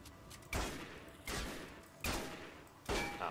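Four loud gunshots from the video game Dark Matter, each a sharp booming blast with a short decaying tail, spaced roughly evenly less than a second apart with no talking.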